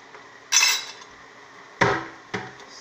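A spoon clanks against a cooking pot while seasoning and onion powder are stirred into a stew, three sharp metallic knocks spaced apart against a quiet background.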